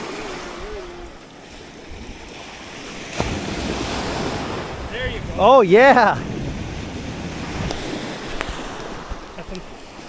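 Gusty wind and breaking waves on Lake Superior during a smelt-fishing outing, a steady roar of surf and wind buffeting the microphone, with a brief spoken exclamation in the middle.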